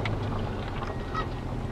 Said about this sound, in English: There's a couple geese.